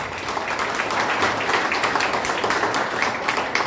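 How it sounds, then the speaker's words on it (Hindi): An audience at a business seminar applauding, dense continuous clapping from many hands filling the whole stretch, fairly loud and even. "तो सर के लिए जोरदार ताली हो जाए।"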